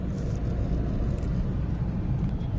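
A bus passes on a main road, a steady broad low rumble of engine and road noise that holds for the whole moment, fairly close, with no talk over it.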